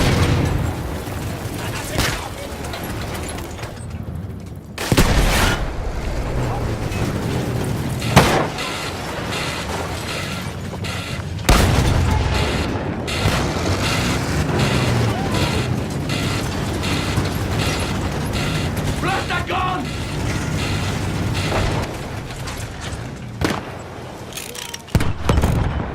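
Dense, continuous battlefield din from a field gun firing and explosions in the World War I video game Battlefield 1, with several loud booming blasts cutting through a constant mechanical roar.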